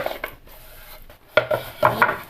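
Cut lemon pieces scraped and dropped into a bowl, soft rubbing at first, then a few sharp clattering knocks of pieces and utensil against the dish near the end.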